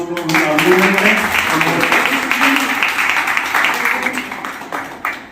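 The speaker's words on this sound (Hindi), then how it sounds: "सभी जो है ताली बजाती हो" Audience clapping at a birthday celebration in a spiritual yoga ashram in Indore, a steady crowd applause throughout with voices mixed in underneath.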